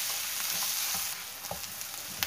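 Masala for goat brain masala fries in a pan, a soft, close sizzle with a few quick stirring scrapes over about two seconds.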